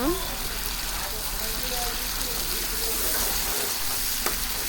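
A mixture cooks on a slow flame in a pan with a soft continuous sizzle and bubbling, heard close and steady beneath someone talking.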